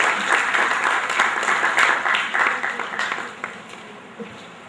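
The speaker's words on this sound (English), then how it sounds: "a huge round of applause for Professor Rishi for his beautiful effort" An audience applauds a professor at a Shakespeare award function, with dense, loud, continuous clapping that gradually thins out and fades over several seconds.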